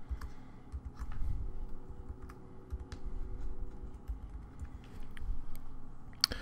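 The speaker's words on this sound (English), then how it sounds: "I'm going to confirm that or retype that password in again" Password keyed in on a computer keyboard during an Apple ID setup, a run of soft close key taps in an uneven rhythm over a quiet room hum, no voices.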